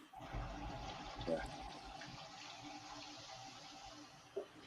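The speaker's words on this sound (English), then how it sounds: "Running water." Water runs from a tap upstairs in a house as a steady, faint hiss under a low room hum, with a voice nearby.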